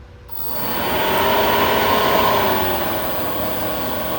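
A diesel heater with an E-06 error code fires up after a reset, its fan and burner swelling within a second into a steady, loud whooshing roar that holds evenly close by.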